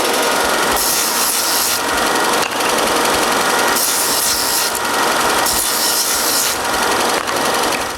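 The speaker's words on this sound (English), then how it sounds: "So to help me insert them into the mortises, I round their edges." Wooden dominoes get their edges rounded by hand, a loud, close rasping scrape repeated in long strokes of about one to one and a half seconds each, with no voices.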